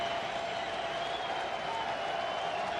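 Crowd at a baseball stadium applauds on opening night, a steady wash of clapping and cheering that holds evenly throughout.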